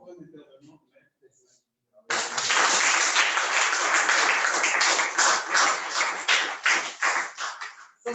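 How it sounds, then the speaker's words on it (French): Audience applause at an entrepreneurs' master class panel, bursting in suddenly after a brief spoken phrase, loud sustained clapping that thins toward the end. "je vous demande d'applaudir"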